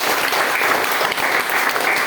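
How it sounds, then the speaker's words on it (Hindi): Sustained audience applause at a company product presentation, a dense, steady wash of many hands clapping close by for about two seconds. "डॉक्टर दादू लिंग सर जी, सभी के लिए जोरदार तालियां।"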